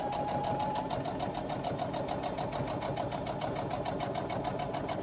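Sewing machine stitching a short run along a 3/8 inch seam on a laptop bag, a steady rapid mechanical whirr with a fast even needle rhythm, loud and close throughout with no talk.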